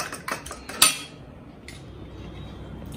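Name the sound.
spoon mixing egg batter in a bowl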